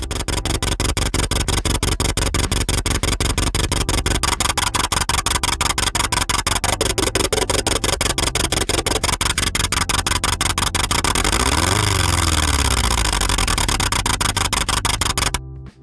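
A dense, buzzing synthetic engine drone made in Kilohearts Phase Plant runs continuously with rapid ticking pulses, its pitch sweeping up and down near the end before cutting off.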